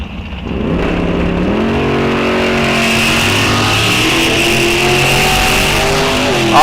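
A dragster and a Camaro launch side by side at a drag strip, with a loud, sustained roar of engines revving and climbing in pitch close by, lasting throughout without a break.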